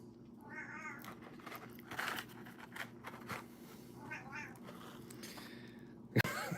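Licorice the cat meows and yowls in the background in a series of drawn-out, wavering cries, fairly faint and distant over a low room hum. The clip ends on a short loud knock.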